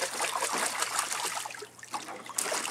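Water splashing in a pool, continuous splashes and trickling with irregular bursts, close and fairly loud, with faint voices in the background.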